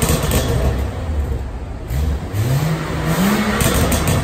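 A BMW F30 335i fitted with catted downpipes and an M Performance exhaust idles and revs with its valved exhaust closed in quiet mode, giving a steady low engine drone with a couple of modest rising revs.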